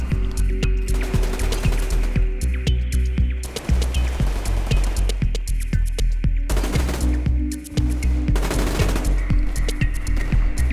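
An APS assault rifle fires in the Survarium shooter game, loud rapid bursts of automatic gunfire with short pauses between volleys, close and continuous over background game noise.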